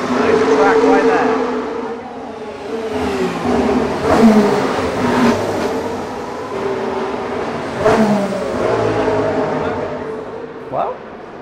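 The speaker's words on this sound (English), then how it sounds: "But you wouldn't get much close to F1 cars than that around most of the other circuits. And it's certainly loud." Formula 1 cars race past at the Monaco Grand Prix, close and loud, each high-pitched engine whine swelling and fading in turn as several cars go by, with a voice talking over them.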